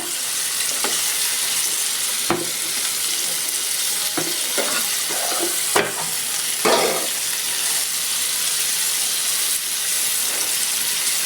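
Sylheti dried fish (shutki) fries in a pan with a constant close sizzle, broken by scattered scrapes and clacks of stirring throughout.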